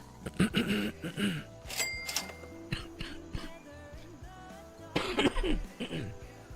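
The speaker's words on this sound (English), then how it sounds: "These coughs come on me so quick" Several sharp coughs in two bursts, near and fairly loud, separated by a stretch of quieter background noise with faint tones.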